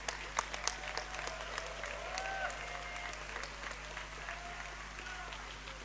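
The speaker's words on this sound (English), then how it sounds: "with that applause" Crowd applause at the 3rd Nyeleni Global Forum gathering, fairly faint and distant, with a few sharper claps early, then a steady patter over a constant low hum and some faint voices.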